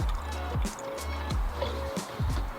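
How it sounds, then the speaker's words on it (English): Coolant is poured into the cooling system of a Jeep Grand Cherokee during a water pump replacement, giving a quiet, close gurgling and glugging pour with soft drips. "Go ahead and add more coolant."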